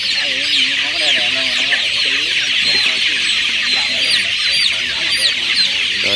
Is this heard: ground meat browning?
no